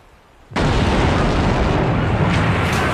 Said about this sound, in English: the battleship USS Maine exploded in Havana harbor